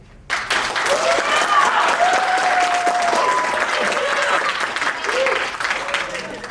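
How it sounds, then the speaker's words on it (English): Audience at a senior show clapping to vote a character named Trader Bob guilty, sustained applause with some cheering and whoops riding over it, fairly close and steady throughout. "By meter of applause, I'm going to have you clap for who you think is guilty."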